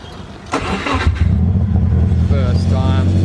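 A Subaru WRX GC8 engine cranks and fires up about half a second in, then settles into a steady, close, rumbling idle while a person talks over it.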